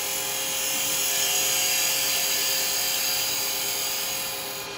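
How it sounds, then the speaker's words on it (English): A wood lathe spins while a carbide chisel chamfers the inside edge of a wooden snowman, giving a steady high whine with a continuous cutting hiss, close and loud, rising slightly and then easing off near the end. "Now I'm just going to slight chamfer just on that inside edge where it's going to actually sit on his head."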